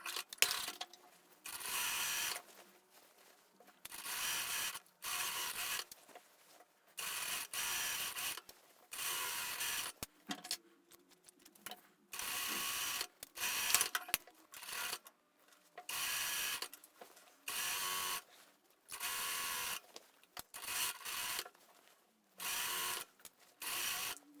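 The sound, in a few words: sewing the seams of a mermaid dress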